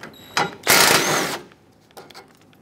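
A ratchet removes 10mm bolts from the AC condenser bracket of a 2007–2014 Chevrolet Silverado 2500 HD. A short clicking burst is followed by a longer rapid ratcheting run, then faint taps, all close up.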